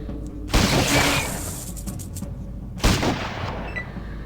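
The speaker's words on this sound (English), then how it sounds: "Alright, Stitch, shotgun it." Shotgun blasts in Fallout Tactics: two loud, sharp booming shots about two seconds apart, each trailing off in a ringing, crackling decay.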